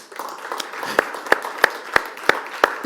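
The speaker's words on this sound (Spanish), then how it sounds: "¿Cuántos pueden darle un aplauso a aquel que..." Congregation clapping at a church service, a spread of light claps with a few sharp, evenly spaced louder claps standing out, moderately close and brief.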